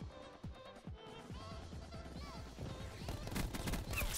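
Rapid bursts of automatic gunfire from the Annihilator in a first-person shooter, sharp repeated shots in quick rhythm that grow denser and louder toward the end, layered over busy game effects.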